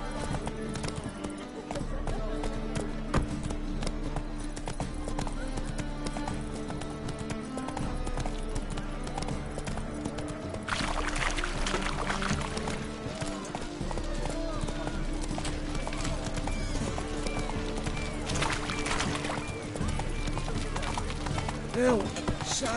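A horse gallops in the video game The Witcher 3, steady rapid hoofbeats running throughout under game music and occasional spoken lines.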